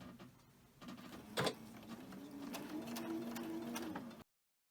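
Home sewing machine stitching pieced quilt blocks for a mystery quilt, a steady close mechanical whir with rising and falling motor pitch over a few seconds, a brief louder clack near the start.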